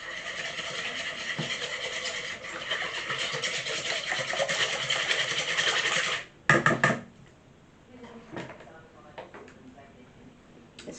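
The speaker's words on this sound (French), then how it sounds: "je vais fouetter l'eau et les œufs déjà." Water and eggs are whisked in a bowl, making a steady, brisk scraping swish for about six seconds. It then stops abruptly with a couple of clattering knocks and quieter handling sounds.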